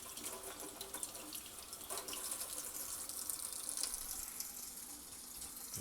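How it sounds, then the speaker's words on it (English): A kitchen faucet runs a steady stream of tap water over broccoli in a sink, a continuous hissing splash with a few louder spatters, fairly quiet and with no one talking. "When you rinse the broccoli, you don't rinse it like this because the water kind of just floats on top."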